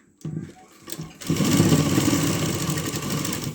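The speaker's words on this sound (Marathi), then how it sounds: "आणि आता मी टीप मारून घेते त्याच्यावर" A sewing machine stitches a cloth tote bag made from leftover fabric: a short burst of motor whirring, a pause, then a sustained, close, steady run of rapid stitching to the end, with faint background sound.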